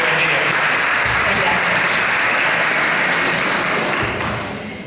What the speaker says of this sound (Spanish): la recibimos con un fuerte aplauso también